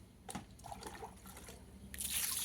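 Liquid pond treatment for blue-green algae and murky water is poured from a bucket into a pond, giving faint scattered drips and trickles that swell into a fuller, louder pour near the end.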